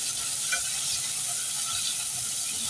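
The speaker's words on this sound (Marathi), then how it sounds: "हे छान असं थोडं परतवून घेऊया आणि 2 मिनिटं शिजवून घेऊया" Tomato wedges and onion chunks sauté in a hot pan with a steady, close, dense sizzle and faint stirring scrapes, with no talking.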